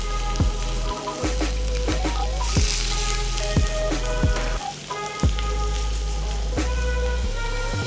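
Chopped onions sizzle steadily and loudly in a hot pan with cumin for Goan red rice, a dense continuous hiss with rhythmic knocks of stirring throughout.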